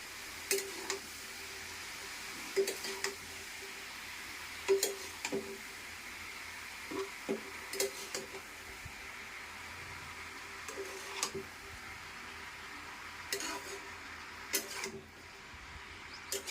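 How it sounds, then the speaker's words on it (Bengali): Ash gourd being stirred with a spatula in a pan, faint scraping clicks and light taps spread irregularly across a low sizzling background, no voices. "এবার খুন্তি দিয়ে একটু নাড়া দেবো"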